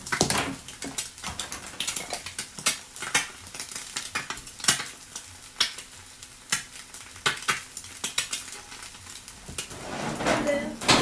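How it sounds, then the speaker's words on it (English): Eggs sautéing in a pan on top of kimchi fried rice, with steady close sizzling broken by frequent sharp clinks and scrapes of utensils against the pan. "we're just going to lightly saute the eggs on top"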